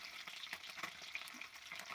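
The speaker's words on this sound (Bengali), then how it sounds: "সুন্দর করে মাছগুলোকে ভেজে নিতে হবে সুন্দর করে না ভাজলে হবে না কড়া কড়া করে ভেজে নিয়ে" Lata fish fry crisply in a pan, giving a steady, soft sizzle and crackle with faint stirring at close range.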